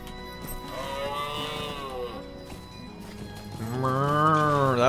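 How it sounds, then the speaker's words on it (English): A cow moos in the video game LOTRO, two drawn-out, near lowing calls separated by a short gap, the second louder. "That was a cow."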